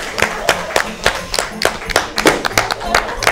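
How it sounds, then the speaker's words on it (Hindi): Audience at a Catholic TV gathering clapping in a steady rhythmic beat, sharp repeated claps about three per second, close and fairly loud with some voices mixed in. "तालियां बजाएं इनके लिए"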